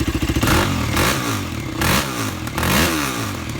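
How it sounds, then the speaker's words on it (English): A race quad's engine idles with a rapid putter, then is revved in a few quick, loud bursts that rise and fall, recorded up close outdoors in the cold, with no talking. "A couple quick revs."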